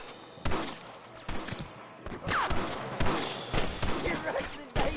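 Repeated gunshots crack in a Red Dead Redemption shootout, several sharp loud bursts spaced irregularly over a few seconds with some overlapping fire.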